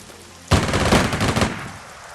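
Machine-gun fire bursts in Strategic Mind: Blitzkrieg during the battle of Poland, a loud rapid volley of shots starting abruptly and rattling for about a second before tailing off.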